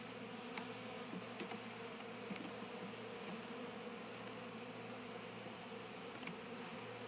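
Honey bees buzz in a steady, dense drone during a hive inspection of frames from a colony with a drone-laying queen, a continuous close swarm hum with faint sharp clicks scattered through it.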